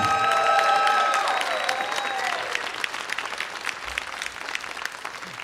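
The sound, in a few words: audience applauding a comedian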